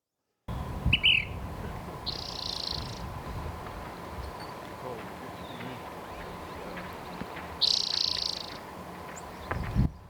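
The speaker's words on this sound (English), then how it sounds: "So Ash-throated Flycatchers are a relatively large flycatcher." An Ash-throated Flycatcher in dry desert country gives short, simple calls, a brief burst early on and another near the end, heard moderately close over a steady bed of background noise.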